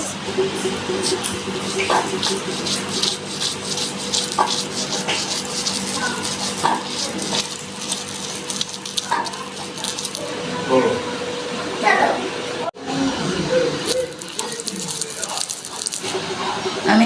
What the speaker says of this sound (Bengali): এবার আমি এটা বেটে নিচ্ছি